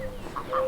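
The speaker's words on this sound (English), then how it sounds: "There's a chicken." Backyard chickens in their coop give a couple of short, close clucks in under a second, with a steady faint hum behind them.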